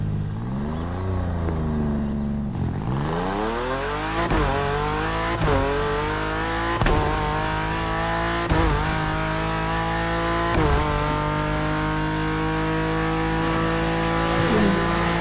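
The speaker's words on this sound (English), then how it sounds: "Damn, M4 sound good." A BMW M4 in The Crew Motorfest racing game revs and accelerates hard, climbing through gears with sharp shift breaks and occasional tire squeal, loud and continuous.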